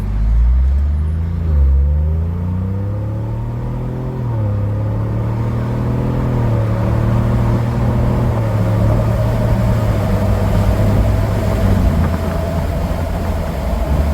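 A deep, throaty exhaust from a 2024 Ford Bronco with an aftermarket AFE muffler, top off, rumbling close by, rising and falling as the engine revs and settles into a steady baritone drone.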